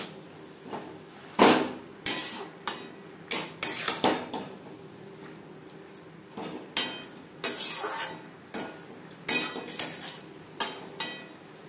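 Colocasia stems, spices and prawns being tossed in a pan, with repeated loud metal spatula scrapes and clanks in an uneven rhythm, close and alone.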